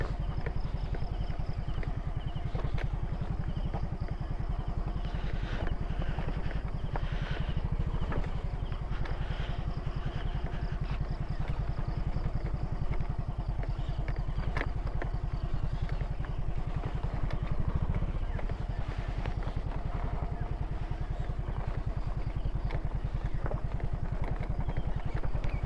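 Yamaha Fazzio scooter ridden along a rough trail near Malagundi Point, Lobo, Batangas, its engine droning steadily throughout with clatter and bumps from the uneven ground, close and continuous with no talk.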